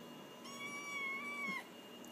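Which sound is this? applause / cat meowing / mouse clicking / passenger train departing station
cat meowing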